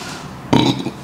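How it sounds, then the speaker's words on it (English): A single loud, close burp rises abruptly at the midpoint and rumbles for about a third of a second, then tails off, during an oxtail mukbang with noodles. "That's a burp for you."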